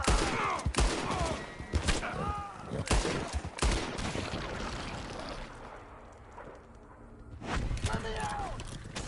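Gunfire from a video game rescue scene, sharp shots bursting in quick irregular volleys close up, mixed with shouting game voices and brief lulls between bursts.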